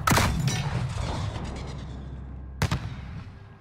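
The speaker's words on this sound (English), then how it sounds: "Sergeant, fire a flare from the launcher on the roof." A flare is fired from a launcher on an embassy roof in Call of Duty Modern Warfare: a sharp launch burst at the start with a long rumbling tail, followed by a second loud thump later.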